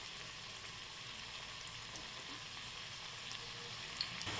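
Spinach pakoras (bhaje) frying in hot oil, a soft, steady sizzle and crackle heard close and alone, with a faint tap near the end.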